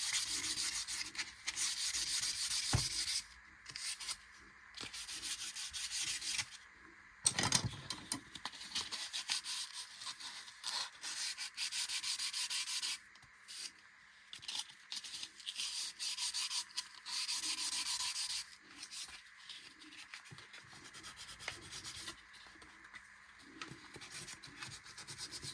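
Wooden bow for a bowed psaltery sanded by hand with 240 grit sandpaper, steady rhythmic rubbing strokes close up with short pauses between passes, no talking.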